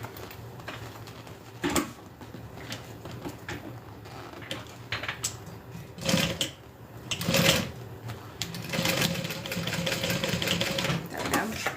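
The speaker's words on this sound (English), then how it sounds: "Let's go ahead and sew this down, just so everything is nice and lined up." A sewing machine stitches a backpack seam in short bursts, pausing between runs, with clattering needle strokes up close. Brief sounds of handling the fabric and a faint voice come in between the runs.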